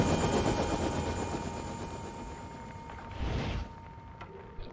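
Automatic machine gun fire in the video game Far Cry 5 rattles in a loud, dense stream that thins out and fades, with a short renewed burst near the end.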